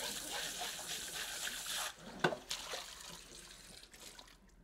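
Running water from a sink tap rinses cut potatoes to wash the starch off, a steady broadband splash through the first half that thins into lighter trickling with a few close clatters and drips.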